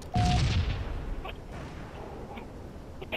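Firecrackers in a video game set off a heavy, close burst of booming pops, then scattered sharper cracks trailing off over a few seconds.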